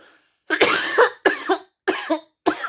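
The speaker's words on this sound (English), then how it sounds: "Excuse me for coughing." A string of four rough, chesty coughs up close, coming in quick succession with brief gaps between them.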